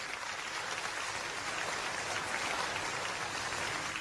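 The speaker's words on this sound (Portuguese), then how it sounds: "Pode glorificar o Senhor com palmas." A church congregation at a Pentecostal-style sermon claps together in a dense, continuous wash of applause that stays even and fairly distant, with no voices over it.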